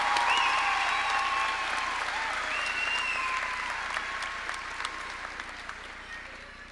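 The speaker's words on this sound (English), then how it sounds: "Please give these graduates a round of applause for their hard work and dedication to academic" Graduation audience applause at the Atrisco Heritage Academy High School ceremony, a broad wash of many hands clapping in a large hall that slowly fades toward the end, with a few scattered cheers on top.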